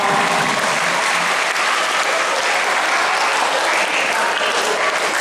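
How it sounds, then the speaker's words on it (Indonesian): Steady, dense audience applause at an Islamic New Year 1448 H commemoration gathering, honouring a teacher from MTsN 1 Tulungagung. The clapping is loud and continuous, forming an even wash of hand claps that fills the whole stretch without any talk. "Tepuk tangan untuk beliau."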